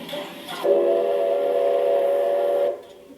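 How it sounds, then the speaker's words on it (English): A locomotive whistle sounds a stop signal during a turntable demonstration at a heritage railway, one loud steady blast of about two seconds that stands out clearly, with no talk over it. "So, Ben, can we do a couple of whistle signals? Okay, so can you give me the stop signal?"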